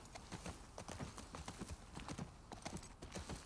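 Horse hooves clip-clop in a steady, close rhythm of repeated sharp strikes, heard in The Last of Us Part II video game with no talk over them.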